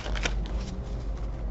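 Quick riffle of a small tarot deck being shuffled, a short crisp flutter of papery snaps near the start, then softer handling noise.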